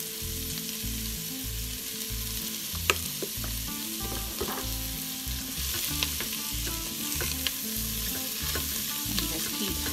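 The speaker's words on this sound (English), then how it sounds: "keep mixing that around. Kind of brown your ham a little bit" Diced cooked ham sizzles while being stirred and browned in an Instant Pot with thyme, salt and pepper, steady frying hiss broken by repeated scraping strokes of a utensil and occasional sharp clicks against the pot.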